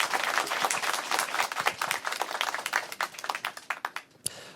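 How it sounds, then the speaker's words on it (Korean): A conference audience claps steadily to welcome panelists onto the stage at a live economics concert event, a dense burst of applause that thins into scattered claps before ending. "큰 박수로 맞이해 주십시오"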